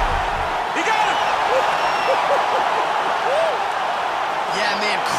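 A UFC video game arena crowd roars after a fight-ending knockout, a broad sustained cheer with whoops, while a voice talks over it.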